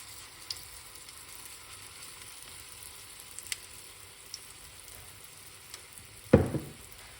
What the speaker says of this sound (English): So this one is frying, lovely and nice.